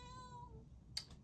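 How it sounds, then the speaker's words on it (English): A pet cat lets out a single soft, drawn-out meow that trails off, faint and fairly close, followed by a brief small clatter. "That was my cat."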